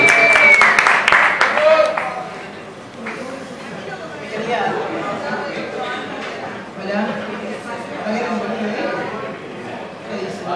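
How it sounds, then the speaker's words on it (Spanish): A bar audience applauds a singer at a live music night. A dense burst of clapping and cheering comes first, then fades into steady crowd chatter and murmuring voices. "Un aplauso para Erika."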